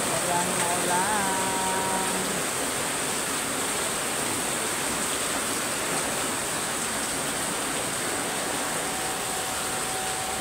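Heavy rain falls outside a workplace as a dense, steady roar of broadband hiss that fills the whole scene, loud and constant, with a voice briefly audible at the start.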